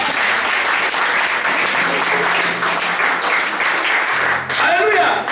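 A church congregation bursts into sustained applause to acclaim the Lord, a dense, loud wash of clapping that runs the whole time with voices mixed in and cheering rising near the end.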